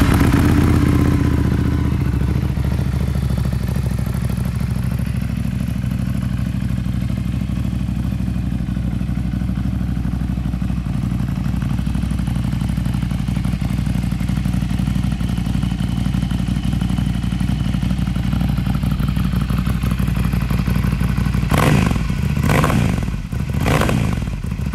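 A motorcycle fitted with an aftermarket exhaust idles with a deep, steady rumble for over twenty seconds, then gives a few short sharp revs near the end, recorded close by.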